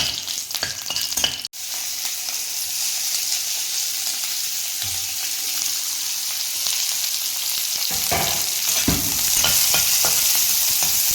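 Onions fry in a pan with a steady, loud sizzle that runs throughout, broken by a sharp clack early on and scraping stirring strokes near the end.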